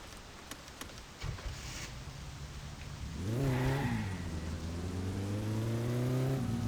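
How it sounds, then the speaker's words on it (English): Police car in a racing video game driving nearby, a steady engine hum that climbs into rising revs and holds at a higher pitch, fairly close and alone without talk. "There's their cop car there."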